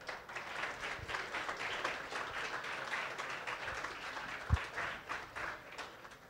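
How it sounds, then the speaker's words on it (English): Applause from a conference audience after a security talk, a moderate steady patter of many hands heard from a distance, fairly quiet and unbroken for several seconds. "You can clap now."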